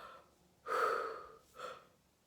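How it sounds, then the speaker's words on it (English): Two audible breaths out, a long deliberate exhale followed by a shorter one, close and soft in a quiet room during a calming exercise, with no talking. "and breathe this all out."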